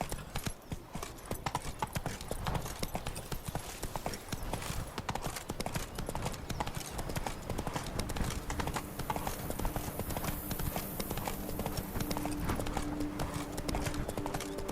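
Roach gallops across The Witcher 3's Blood and Wine countryside, a dense, unbroken drumming of hooves up close, with a faint game-music drone joining partway through.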